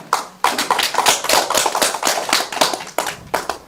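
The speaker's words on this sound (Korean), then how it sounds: "박수로 환영해 주십시오." A small studio audience at a Korean talk show claps to welcome a poet, a dense burst of hand claps lasting a few seconds, close and fairly loud with no talking over it.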